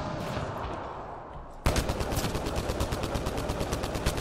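Rapid automatic gunfire from the video game Mass Effect Andromeda, loud and close, quieter bursts first, then a sudden harsh stream of rapid shots with no talk.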